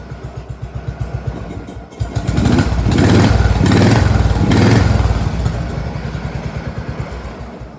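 Push lawn mower engine idling with a rapid chugging beat, then revving up loud for a few seconds before settling back to idle, close by.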